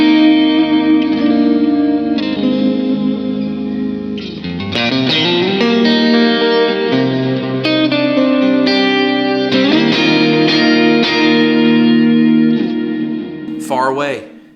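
An electric guitar played through heavy reverb, around 73%, with the front delay switched off, rings out in sustained, washing chords and notes that blur into a dreamy ambient tone, loud and continuous before a final swell fades out.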